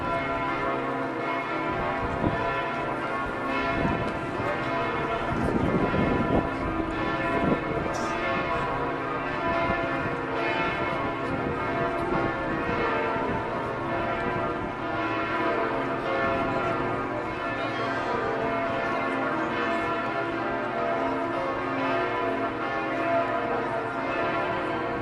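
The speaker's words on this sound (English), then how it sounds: "Before Mass, we got to hear the bells ring." Church bells ring out before Mass in Paris, a sustained, layered peal of overlapping tones that carries on steadily at moderate distance, with some faint ambient noise around it.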